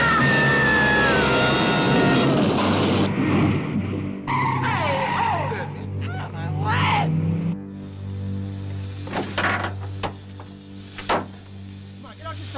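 A car with failed brakes skids and careens off the road, tires screeching loudly and sliding for several seconds, then heavy thuds and rattling as it goes over, with frantic shouting voices throughout.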